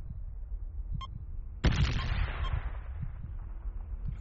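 A single sharp gunshot cracks out in a video game firefight, followed by a decaying rumbling tail over a low steady hum, with a faint beep just before.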